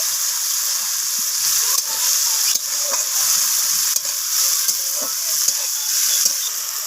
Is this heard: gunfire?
no